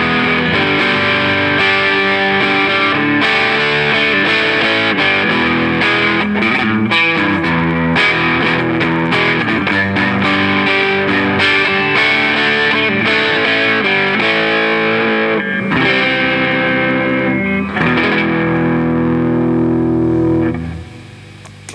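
A Rastacaster-style electric guitar plays through its bridge humbucker pickup, a loud, overdriven run of chords and single notes sustaining for about twenty seconds before ringing out and fading at the end.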